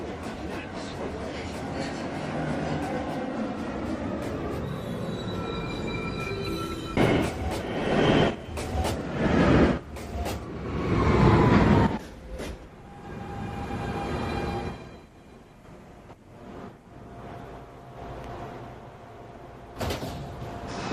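A downtown express 2 train of the New York City subway pulls into Rose Street station, with rumbling wheels, clattering bursts and door-like thuds building in the middle, then a softer platform hum and a brief knock near the end.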